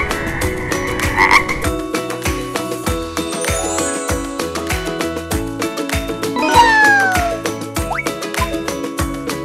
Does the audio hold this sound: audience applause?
no